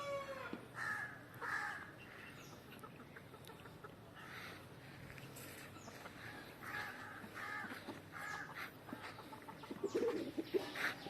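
A four-month-old rooster crows several times at moderate distance over a quiet outdoor background, with clucking and other bird calls scattered throughout.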